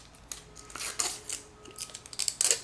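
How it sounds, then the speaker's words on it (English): Protective plastic film peeled off a 2010 iPod Nano, a close series of crinkling, scratchy bursts that grow denser toward the end, with no talking. "I'll go ahead and peel it off the plastic."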